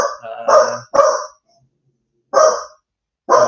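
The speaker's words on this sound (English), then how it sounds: "No more barking." A dog barking at the postman nearby, loud sharp barks in two quick pairs separated by a silent gap, some with whiny tails, no speech.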